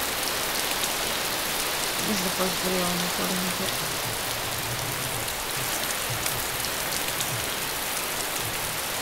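Steady rain falls in the DayZ Standalone alpha game, a constant close hiss throughout, with someone talking briefly over it early on.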